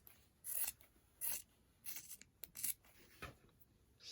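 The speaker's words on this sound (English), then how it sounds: "now you're just going to very gently, being careful not to cut your thread, cut your fabric down" Scissors snip through polar fleece fabric to cut tassels, in a few short, separate bursts of crisp, close cutting with quiet pauses between and no talking.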